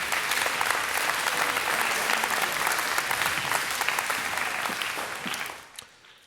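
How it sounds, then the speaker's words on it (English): An audience at a Sukkot 2019 presentation applauds, a dense steady clapping that carries on for several seconds and then fades out toward the end. "Okay, you can clap for that."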